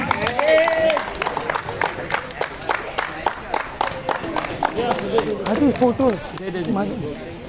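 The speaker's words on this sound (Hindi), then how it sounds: "एक बार जोरदार तालियां कर दीजिए बच्चे लोग।" Children clap at the prize ceremony of a cricket final, a scattered patter of applause running throughout beneath loud overlapping talking and calling voices.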